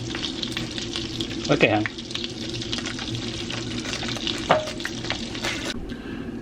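Food fries in a tub of butter with a steady close sizzle and bubbling, punctuated by a few clinks and stirring scrapes, while a person briefly speaks.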